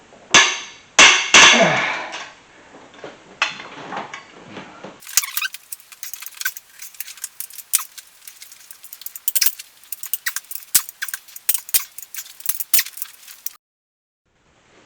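Cylinder head bolts on an engine are broken loose one by one with a wrench, working back and forth across the head. Near, loud cracks and clicks stand out alone, followed by a long run of quick ratcheting and clinking metal.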